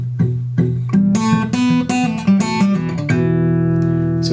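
Acoustic blues guitar plays the second phrase of a call-and-response lick, plucked notes over a steady low bass drone, ending on a sustained ringing chord, close and clear with no talking.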